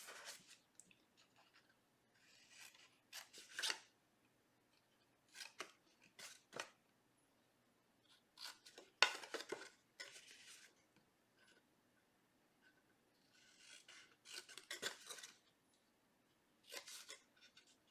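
Scissors snipping through cardstock in short, close crisp cuts, grouped in quick clusters separated by brief pauses, quiet and with no voice over them.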